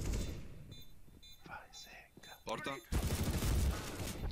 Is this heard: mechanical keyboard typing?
no